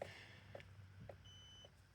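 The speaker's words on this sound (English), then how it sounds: "Oh, my drone's beeping at me, I forgot to turn it off." Four short electronic beeps from a drone, spaced about half a second apart, quiet over a low steady engine-like hum.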